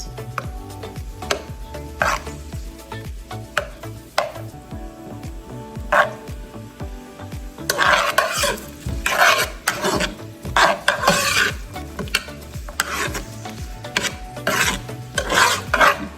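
Onions cook on the stove for a broccoli cheddar soup while a utensil scrapes and stirs the pan, with sparse scrapes at first that grow into a busier, louder run of rubbing and clinking strokes near the end.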